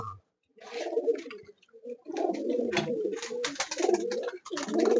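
Several pigeons coo in soft, throaty bursts close by inside a pigeon loft, with brief pauses between calls and a muffled indoor feel.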